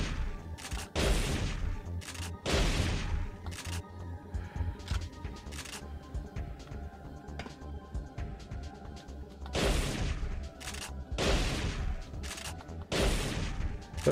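Gunfire from the player's weapon in Parasite Eve 2 on PS1, several loud bursts of shots spaced across the stretch with game ambience and music between them.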